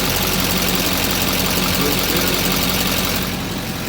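A truck engine idles steadily after a new ECM and CAT fuel filter adapter install, a close, even low rumble with a regular knocking pulse that eases slightly near the end.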